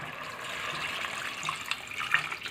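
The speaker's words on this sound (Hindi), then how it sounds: "और साथ ही इसमें मैं डाल रही हूँ जी पानी" Water being poured into a pan of mutton liver masala with salt, turmeric and red chilli, a steady close splashing flow lasting a few seconds with small bubbling spikes near the end.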